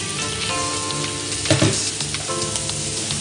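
Green beans and peas sizzle and fry in a pan, a steady close hiss throughout with a brief louder burst of crackling midway as the vegetables go in.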